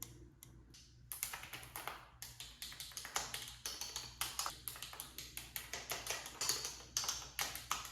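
Typing on a pink computer keyboard, a brief pause and then rapid, irregular clicking keystrokes in quick bursts, close and crisp, continuing steadily with no voices.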